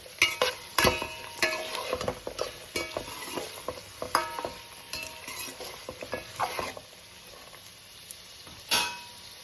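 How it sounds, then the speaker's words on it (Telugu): Chopped vegetables with capsicum pieces stirred in a pan for vegetable rice, giving repeated scraping and clinking strokes over a soft frying sizzle, close and moderately loud with an irregular rhythm. "అలాగే క్యాప్సికమ్ ముక్కలు. వీటన్నిటిని ఒకసారి కలుపుకుందాం."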